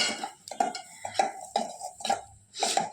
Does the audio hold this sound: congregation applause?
no